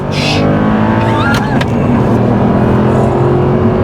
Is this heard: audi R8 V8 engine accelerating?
yes